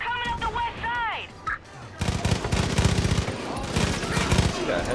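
Video game gunfire in Far Cry 5, with rapid automatic bursts of shots after a few warbling chirps, loud and close in a dense, sustained barrage.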